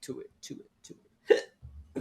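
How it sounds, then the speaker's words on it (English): A single sharp hiccup from a person during a live talk about home solar power, brief and close, set among short bursts of speech. "Now I have hiccups."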